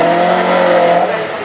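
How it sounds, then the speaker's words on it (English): Classic hot rod cars rumble along on a parade lap at Hednesford raceway, with a loud, steady engine drone holding close and even before easing slightly at the end. "bringing the cars out on their parade lap"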